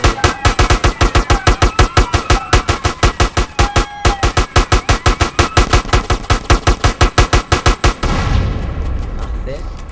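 Automatic gunfire from a weapon in the GTA video game pounds out as a rapid, loud, evenly spaced burst of dozens of shots, then cuts off and leaves a fading rumble.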